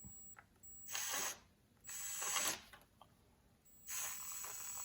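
A drywall screw is driven into a broken plastic oil dipstick in three separate bursts of whirring, ratcheting driver noise, close and fairly loud, with quiet pauses between them.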